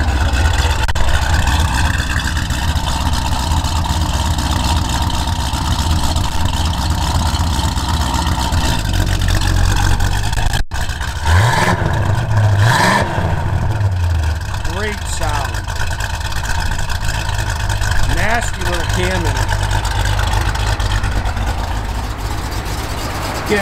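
A 1967 Pontiac GTO engine idles with a steady low rumble and a loping cam, then revs up sharply twice around the middle before settling back, with someone talking over it at points.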